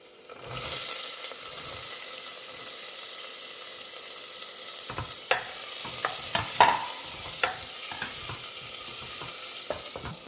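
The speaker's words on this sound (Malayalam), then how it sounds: "നമുക്ക് സവാള ഇട്ട് കൊടുക്കാം" Onions drop into a hot pan for a jackfruit masala curry and burst into a loud, steady sizzle, joined midway by a run of sharp scraping and knocking stir strokes.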